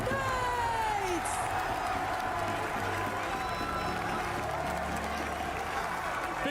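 A packed watch-party crowd cheers, whoops and applauds loudly for the favorite Gentle Knights at an esports event, with an announcer talking over the steady roar.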